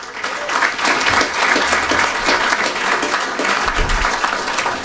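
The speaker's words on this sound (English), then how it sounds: "join me one more time in giving our inductees that are going to be coming before us in a few minutes one more hearty round of applause" Hearty applause for inductees at a 2021 Hall of Fame breakfast ceremony, a steady, full wash of clapping from a seated crowd lasting the whole stretch at even loudness.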